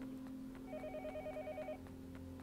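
A telephone ringing in the horror game Yomawari: Night Alone, with a faint, quick warbling electronic ring in one short burst over a quiet, droning background.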